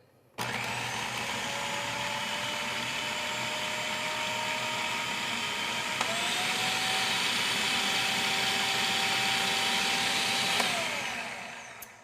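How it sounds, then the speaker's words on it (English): A food processor motor runs steadily for about twelve seconds while emulsifying a mixture, shifting pitch partway through as the speed changes, then spinning down at the end; no voices. "we're going to turn the machine back on until this is completely incorporated"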